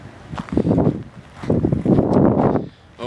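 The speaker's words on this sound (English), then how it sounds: "Apologies for the wind in advance." Wind buffets the microphone outdoors among gravestones and a church at historic Jamestowne. It comes in two long, heavy, low rumbling gusts separated by a brief lull, with no talking.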